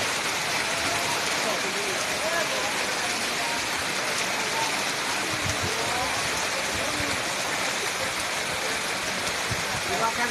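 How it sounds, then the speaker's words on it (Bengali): Heavy rain pours steadily in a constant hissing roar, with occasional low thumps mixed in. "পুরা দামে ঝড় বৃষ্টি।"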